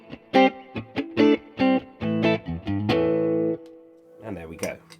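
Plucked electric guitar notes and chords ring out through a practice amp's digital reverb, a lush tail lingering after each phrase, played loud and close.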